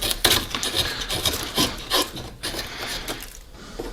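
A knife carving wooden angel wings and feathers makes close, scraping strokes on the wood, repeated rasping cuts in an uneven rhythm.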